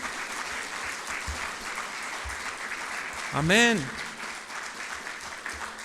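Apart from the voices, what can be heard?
church congregation applause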